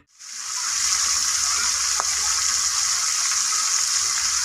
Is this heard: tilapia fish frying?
yes